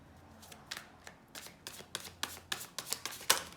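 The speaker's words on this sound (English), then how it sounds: "I'm gonna take one more shuffle" Tarot cards shuffled close by in a quiet room, a series of about a dozen crisp, evenly spaced slaps and riffles that grow sharper toward the end.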